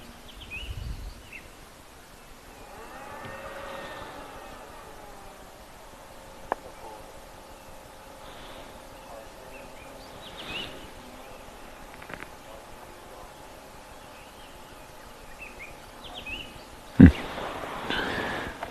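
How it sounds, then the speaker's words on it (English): Faint birdsong of a morning chorus drifts in from a distance over quiet outdoor ambience on a safari, with scattered chirps and a brief rustle near the end. "Just so beautiful listening to the birds as well."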